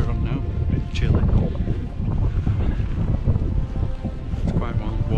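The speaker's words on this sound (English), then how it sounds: "It's quite windy" Strong wind buffets the microphone in loud, rumbling gusts on a Scottish mountain climb near Beinn Narnain and The Cobbler, with faint background sounds mixed in.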